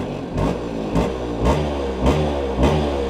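A Vespa PX scooter engine revs under repeated throttle blips, a close, steady mid-pitched idle rising in five regular surges about half a second apart.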